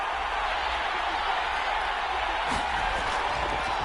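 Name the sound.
stadium crowd in video game Madden 22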